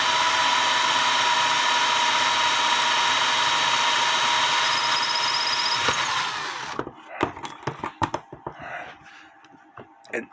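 Stationary drill running steadily under load on clock work, used as a lathe substitute, a dense continuous whir for about seven seconds before it stops, followed by scattered clicks and knocks.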